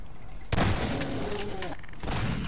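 A shotgun in the video game Garry's Mod fires a single sharp, loud blast at close range, followed by a short decaying tail and a second fainter burst near the end.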